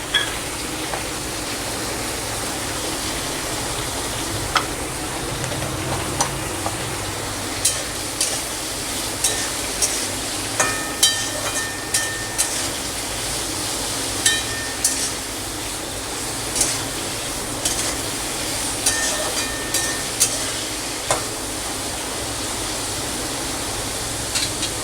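Vegetables for fried rice sizzle in a pan, a dense continuous hiss with regular light clicks of stirring across the whole stretch, close and moderately loud, no voices.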